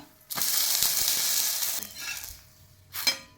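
A ragi bun dosa is flipped over in a hot pan: a loud burst of sizzling that fades after about a second and a half, followed by a short scrape and a final sharp sizzle, close up, with no talking.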